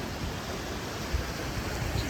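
Flowing water of Tyndall Creek in the bush on a valley hiking circuit, a steady close rushing wash with no pauses.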